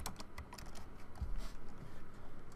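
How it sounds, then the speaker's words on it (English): Typing on a computer keyboard during a League of Legends game: a quick run of close, light key clicks in an irregular rhythm over a low background hum, with no talk. "God, I suck at typing."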